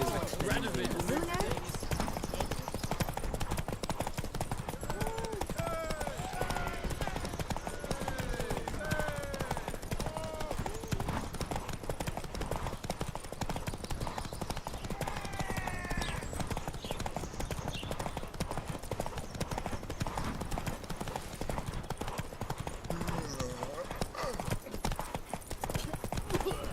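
Horse galloping in the Witcher III: Wild Hunt video game, a steady rhythmic clip-clop of hooves continuing throughout, with occasional whinnies and game sounds, and voices speaking over it.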